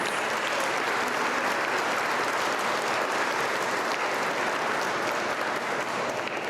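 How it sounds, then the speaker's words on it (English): A room full of people at a graduation ceremony claps steadily for several seconds, a dense, even roar of applause with no voices standing out. "I would like to specifically give a nice round of applause to all the support that they give us"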